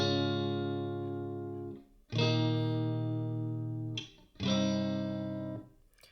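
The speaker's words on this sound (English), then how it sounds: "I recorded 2 guitars." Electric guitar playing sustained distorted chords, three long strums each ringing out and fading, with a short pause between them.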